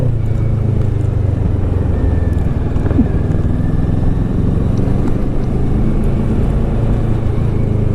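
A 2016 Kawasaki Ninja 650 motorcycle cruising on a road, its engine a steady, loud, continuous rumble mixed with wind noise throughout, with no voices.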